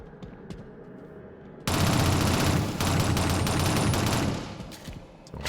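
In the game Shadowrun, a dwarf fires a minigun in a sustained roaring stream of rapid fire lasting about three seconds. It breaks in briefly, then continues over quieter background game sound.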